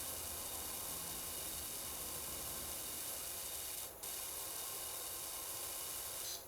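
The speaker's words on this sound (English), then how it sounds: "This sounds exactly like water spraying on tiles." Water jets spray onto tiles in a power-washing video game, giving an even, continuous hiss with a brief dropout partway through and no voices.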